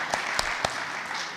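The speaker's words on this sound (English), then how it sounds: "So give her a clap." Audience clapping at a theatre gathering: a few sharp, separate claps stand out over a steady, noisy crowd wash, fairly close and moderately loud.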